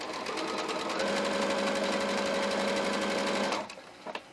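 A sewing machine runs steadily, stitching a hoodie shoulder seam to its end, a close continuous motor whir with a steady hum, stopping abruptly near the end followed by a couple of small clicks.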